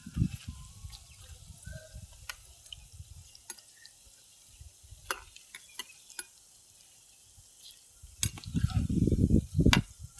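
Green chili pakoras frying in hot oil in a home kitchen, a soft steady sizzle with occasional sharp ticks and clinks, building to a louder bubbling burst near the end, no talk over it.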